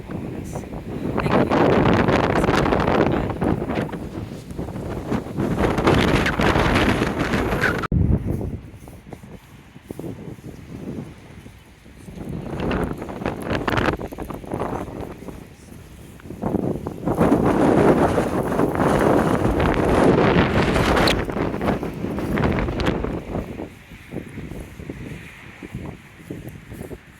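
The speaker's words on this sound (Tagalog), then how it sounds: "grabe, ang lakas talaga ng hangin." Strong gusting wind buffets the microphone by the sea at high tide, surging in loud roaring waves of rushing noise that rise and fall over several long gusts, with little else audible.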